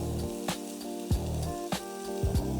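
Garlic hits a hot pan for potato soup, sizzling in a steady low crackle, with a few sharper spattery bursts and scraping stirs standing out close by.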